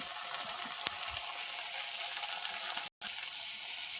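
Spice masala fries in oil for a Bengali taro-leaf dish, giving a soft, steady sizzle. A sharp click sounds early on, and a brief dropout falls near the end.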